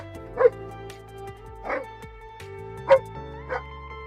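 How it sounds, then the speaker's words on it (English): A pet dog named Nova barks indoors in short yips and whimpering barks, four distinct bursts spaced about a second apart, close by, over a steady low background hum. "Nova, you bark too much, girl."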